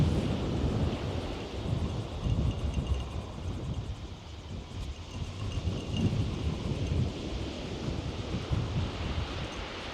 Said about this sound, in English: wind's getting strong